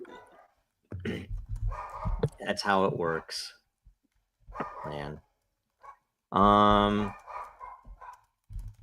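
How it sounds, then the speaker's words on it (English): A dog barks a few times in the background of a casual indoor conversation, the barks loud and clear between stretches of talk by several people. "Somebody's dog is not mine this time."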